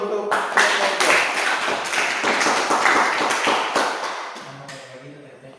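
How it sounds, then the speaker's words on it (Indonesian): A classroom of students applauds together after a group presentation, a dense, steady wash of clapping that fills the room and tapers off near the end. "Tepuk tangan dulu untuk"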